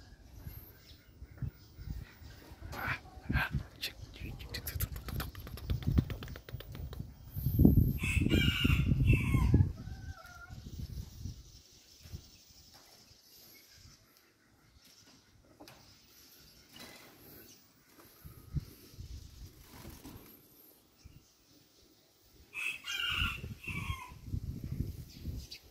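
Farmyard chickens cluck on and off while a rooster crows loudly, with the strongest crow near the start of the middle stretch and another toward the end, over faint background rustle.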